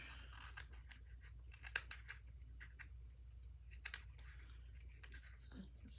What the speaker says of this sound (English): I'm going to trim it right here.